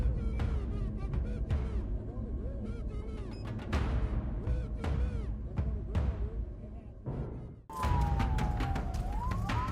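A police car siren wails and sweeps in pitch amid busy traffic noise, with honking and chatter mixed in, growing louder and clearer toward the end.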